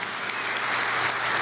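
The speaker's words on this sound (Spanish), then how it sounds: "Vamos a darle un aplauso a la vicepresidenta Delcy Rodríguez Gómez." Dense, continuous crowd applause for a vice president at a passenger terminal inauguration in Venezuela, steady and loud for the whole brief moment.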